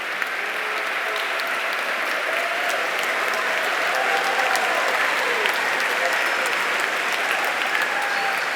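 A concert audience at a school band performance applauds the superintendent and guests, a dense, steady roar of many hands clapping that holds evenly for the whole stretch, with crowd murmur mixed in.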